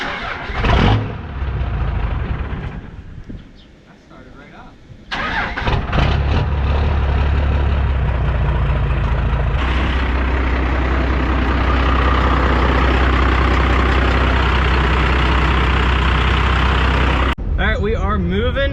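A 3rd gen truck with a swapped 12 valve engine runs loudly and steadily nearby, a deep diesel rumble that drops briefly and then holds a constant drone, with people talking.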